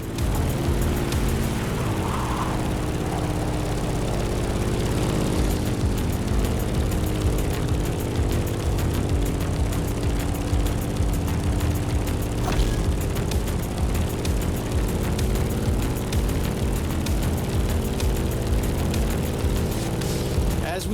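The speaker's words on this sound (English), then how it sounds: "In the cockpit of a stunning Grumman F8F Bearcat, or simply the Bear." A Grumman F8F Bearcat propeller plane in The Crew Motorfest drones with a steady, loud engine and prop hum that holds evenly throughout, with faint rushing air layered above.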